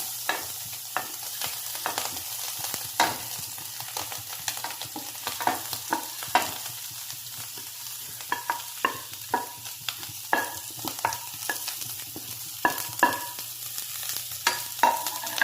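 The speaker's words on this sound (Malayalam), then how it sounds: "മിക്സ് ചെയ്ത് വറുത്തെടുക്കുക. നന്നായി വറുത്തെടുക്കണം കേട്ടോ." Grated coconut, shallots, garlic and curry leaves roast in coconut oil in a pan for a spicy beef curry, a low sizzle broken by frequent sharp spatula scrapes and clicks at an irregular pace, close by with no talk.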